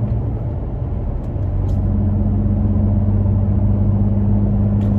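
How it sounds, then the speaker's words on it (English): Inside a Toyota Tacoma pickup on the road, a loud, steady low cabin drone and engine hum with a constant road roar, settling into an even tone after the first second, with no one talking. "I'm riding in the Tacoma right now."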